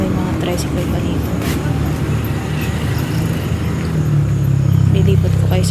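Motorized tricycle traffic on a town street near the public market in Manaoag, heard as a steady engine and road rumble that swells toward the end, with people talking over it.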